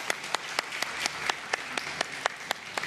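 Claps ring out in a slow, evenly spaced series, about a dozen sharp hits over a low background murmur from a studio audience on a Ramadan iftar television show.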